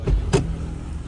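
A Kia Carens car's low engine rumble hums steadily nearby as it pulls up, with two short dull thumps in the first half-second.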